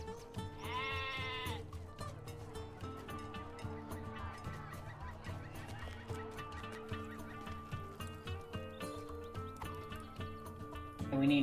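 Sheep bleat among other farm animal noises in the game Lord of the Rings Online (LOTRO), with fowl calls and hoof clip-clop layered over steady background game music.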